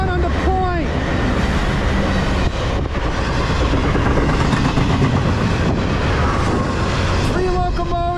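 A Norfolk Southern freight train led by three locomotives, including a freshly rebuilt EMD unit, rumbles past close by with continuous loud rolling and clattering wheels, a horn-like tone briefly at the start and end.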